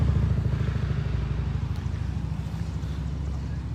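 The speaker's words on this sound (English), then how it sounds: "People are still right now driving around this area" A steady engine rumble of passing traffic in Derby drones continuously, with a faint windy hiss over it.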